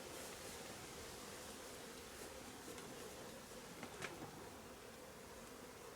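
A swarm of bees buzzes around a beehive as a faint, continuous hum under a soft background hiss, with a few brief louder passes near the microphone.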